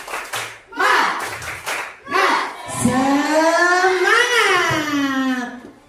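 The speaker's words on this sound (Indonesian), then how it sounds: "Tepuk semangat." Children in a classroom do a spirit clap, bursts of rhythmic clapping mixed with their loud shouted chant, two short rounds followed by a long sustained group shout.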